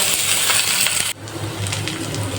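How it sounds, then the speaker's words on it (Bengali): Onion and garlic fry in oil with neem leaves, a loud bright sizzle that suddenly drops to a softer, steadier crackle partway through, close up with no talking. "পেঁয়াজ আর রসুনটা ভালো করে ভেজে নেব"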